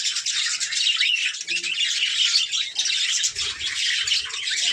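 Birds calling around a house, dense high chirping and squawking chatter close by, continuous and busy, with a few brief low thuds underneath.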